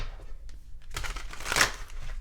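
Tarot cards are shuffled by hand, giving a soft papery riffle that builds into a brisk, close flurry of rustling and snapping partway through, with no talking.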